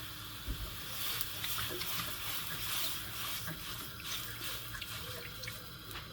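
Boiling water is poured into a frying pan on a stove, making a steady, close splashing trickle that runs throughout with no talk.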